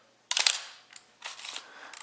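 A Nikon FA film camera fires its shutter at a slow speed, giving a sharp mechanical clack, a short gap and then a softer closing clatter, heard close up in a quiet room.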